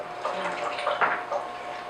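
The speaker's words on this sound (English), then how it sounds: "So now we're just going to add some water to, that's going to be your gravy." Water pours into a cooking pan to start a gravy, a steady close splashing wash with small gurgling variations throughout.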